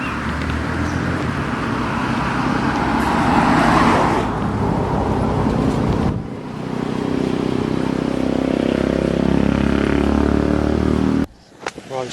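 Cars and a motorbike pass along a road one after another, loud swelling and fading engine rushes up close that stop abruptly at the end.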